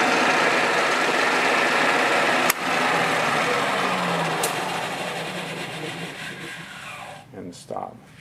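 Drill press motor running after the front push-button start switch in a workshop, a steady whirring hum at even volume, one sharp click partway through, easing off toward the end as a voice speaks.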